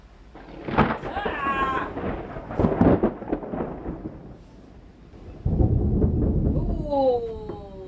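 Thunder from an approaching storm rumbles loudly in heavy rolling waves, with people speaking and exclaiming over it outdoors aboard a boat.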